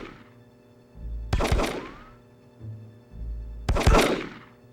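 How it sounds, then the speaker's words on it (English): Sniper rifle fire in a Die Hard video game set in Nakatomi Plaza: two loud, close cracks a few seconds apart, each followed by a ringing decay, with heavy thumps before them. "are you trying to kill Hans with a sniper rifle?"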